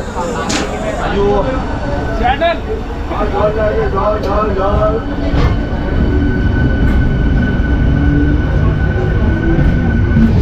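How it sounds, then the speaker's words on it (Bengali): Howrah–Digha Tamralipta Express train, a loud close rumble of the train inside a carriage with wheel noise and squeals, while people talk over it throughout. "এখানে কিছুক্ষণ দাঁড়িয়ে ট্রেন আবার ছেড়ে যাবে।"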